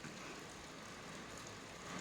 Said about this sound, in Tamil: வெளியில் நல்லா மழை வந்துட்டுருக்கு.